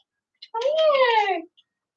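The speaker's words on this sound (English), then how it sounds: "Oh, there's a couple cats in the tree." A single drawn-out meow from a cat outdoors in a tree, close and clear, a rising then falling cry lasting about a second with a brief chirp before it.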